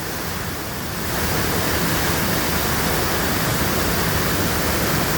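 Dunn's Falls, a waterfall west of Andover, Maine, roars as a dense, steady broadband rush that swells slightly after the first second and then holds loud and unbroken.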